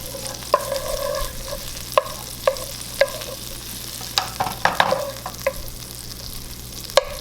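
Two cloves of garlic frying in a pan with a steady sizzle, punctuated by sharp, regular scrapes and knocks of a utensil stirring against the pan, no voices.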